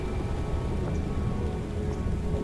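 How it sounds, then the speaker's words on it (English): Steady rain from the video game Last Days of Lazarus falls in a dense, even wash of drops, with a faint rumble of distant thunder beneath it and no voices. "It's cold and raining!"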